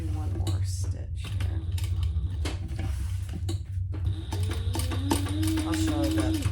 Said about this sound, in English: Let me do one more stitch